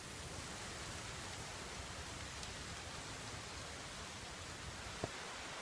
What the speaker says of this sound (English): it's really, really pouring down now